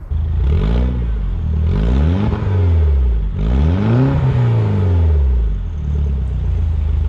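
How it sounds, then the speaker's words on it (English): An R56 MINI Cooper S with a Magnaflow exhaust revs repeatedly up and down, loud and close, with sweeping engine pitch and rasping burble between blips, no pops. "he has a Magnaflow exhaust, so we should probably listen to it"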